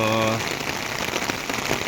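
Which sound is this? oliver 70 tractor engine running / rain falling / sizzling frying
rain falling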